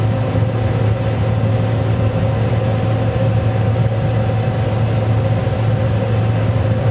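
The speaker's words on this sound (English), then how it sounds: "Now I'm going to pull forward with the combine." A John Deere combine harvester drives forward, its engine holding a steady, loud low drone with a constant mechanical hum throughout.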